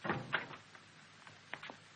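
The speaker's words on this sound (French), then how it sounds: "Ferme la porte." A door being shut in an old 1930s French film scene, a soft bump followed by a few quieter clicks and rattles, faint and alone.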